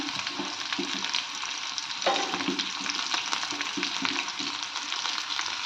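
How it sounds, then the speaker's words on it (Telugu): Ginger frying in a pan gives a steady, close sizzle with light stirring and scraping underneath, and no voices are heard. "ఎక్కువ వద్దు, కొంచెం ఫ్రై అవ్వనిద్దాం. చూడండి, అల్లం వేసుకుంటున్నాను."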